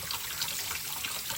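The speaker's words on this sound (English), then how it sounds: "So let me rinse these off real quick." Food being rinsed off under a running kitchen tap gives a brief, steady splash of water, close and continuous, with no talking.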